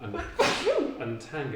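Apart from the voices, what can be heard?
sneeze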